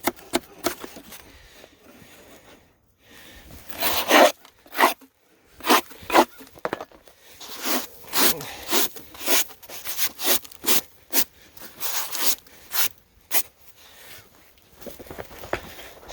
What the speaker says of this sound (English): So we're just cleaning out bottom boards here, and we're just scraping them.